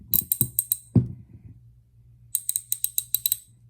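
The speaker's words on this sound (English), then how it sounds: "check this ratchet, because y'all know on my other set, the ratchet was had a bad spot in it" An SK ratchet wrench clicks in two quick bursts of crisp, evenly spaced ratcheting, separated by a short pause and a dull knock, close up with no talk.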